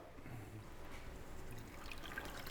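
Salt and water brine for bacon being swirled in a container, about 1 ounce of salt to 2 gallons of water: a soft, continuous sloshing and trickling of liquid, close and fairly quiet, with no talking.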